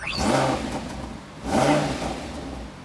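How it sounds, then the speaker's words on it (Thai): A car engine with its exhaust valve closed revs twice in short, muffled bursts, rising then settling back, a subdued throaty tone. "อันนี้คือท่อมันปิดอยู่นะครับเสียงจะประมาณนี้"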